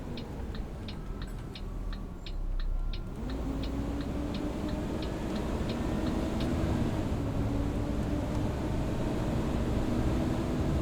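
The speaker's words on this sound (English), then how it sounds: "I'm absolutely loving the Hoover sounds." A B7TL bus in the OMSI 2 simulator drones along with a steady engine hum and a rising whine, while a rhythmic ticking, like an indicator, clicks in the foreground early on.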